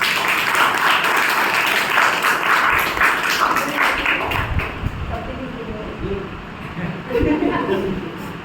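Audience applause at a club meeting, steady and full for the first few seconds, then thinning into scattered claps with voices mixing in toward the end.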